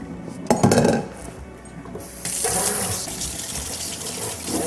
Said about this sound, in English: dump it out in the colander and give him a quick rinse in cold water